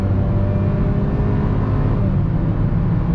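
A Hyundai HB20 R-Spec 1.6 with a six-speed automatic accelerates hard on an empty road, its engine a loud, steady, continuous drone throughout, heard from inside the car with no talking.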